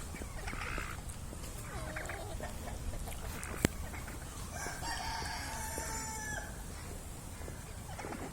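A turkey gobbles amid other chickens and roosters at a rooster fight, its loud, repeated gobbling calls rising mid-clip over a busy, continuous background of clucking and crowing fowl.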